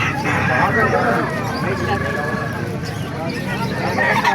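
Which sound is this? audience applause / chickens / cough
chickens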